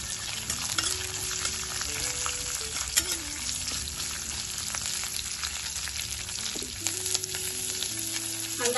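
Chopped onion sautéing in a pan, a steady close sizzle with occasional stirring scrapes and a sharp clink, no voices.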